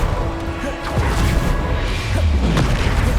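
Bombarda spell blasts in the Hogwarts Legacy video game, heavy booming impacts and crashes in a dense, loud, continuous stretch of combat noise.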